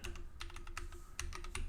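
A password is tapped out on a computer keyboard in a quick, uneven run of light, close key clicks, about a dozen strokes with brief pauses, over a faint steady hum.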